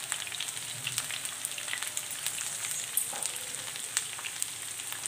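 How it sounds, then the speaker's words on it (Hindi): Okra (bhindi) fries in hot oil in a home kitchen pan, a steady close sizzle with dense crackling pops that runs continuously with no voices. "तो इस तरीके से हम भिंडी डाल देते हैं"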